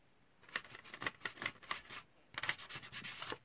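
Cheap makeup-style brush rubbing paint into a mixed media paper layout, a soft, quiet, rhythmic scrubbing of repeated short bristle strokes in two bursts, with no talking.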